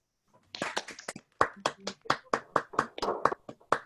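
A small audience claps for an award winner at a community builder awards event, sparse at first and then a series of distinct hand claps in an uneven rhythm, close and fairly quiet.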